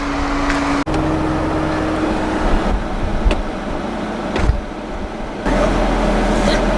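A 2020 Chevrolet Camaro 2SS with a ten-speed automatic climbs a canyon road, its engine droning steadily and loudly from inside the cabin, with a brief drop at one point and the tone rising near the end.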